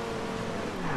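A Dodge Viper engine in the Forza Horizon 2 racing game drones steadily throughout, loud and close, with a sustained tonal hum and no speech over it.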